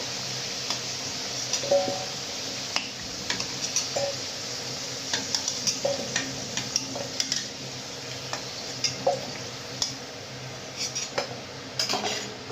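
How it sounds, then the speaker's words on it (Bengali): Fried potatoes being lifted out of hot oil with a metal utensil while cooking mutton curry: repeated sharp scrapes and clinks against the pan over a steady sizzle, close and fairly loud. "আমার আলুটা লাল লাল করে ফ্রাই করা হয়ে গেছে। এবার আমি তুলে নেব।"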